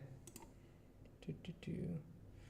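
Computer keyboard typing, heard as a few soft, close key clicks in a quiet room, with a person's voice and other sounds nearby.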